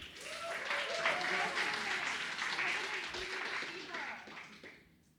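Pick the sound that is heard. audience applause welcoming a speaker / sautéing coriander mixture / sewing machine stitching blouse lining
audience applause welcoming a speaker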